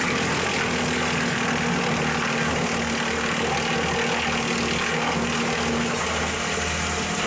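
A 25-horsepower Honda engine mounted on a wood chipper rated for 16 cm branches idles steadily and moderately loud, with a low, even pulsing rumble throughout.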